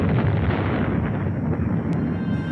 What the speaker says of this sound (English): A series of atomic explosions